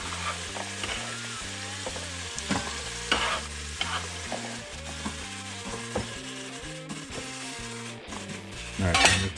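Carrots, ginger and garlic fry and get stirred in a pot, with steady sizzling under a busy musical backing and a louder scrape and stir near the end.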